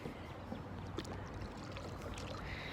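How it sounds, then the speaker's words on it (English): Kayak paddling on open water on an outing toward a boat graveyard, with soft steady splashing and water swishing under a constant outdoor wash, a few brief drips and strokes standing out. "out here paddling around"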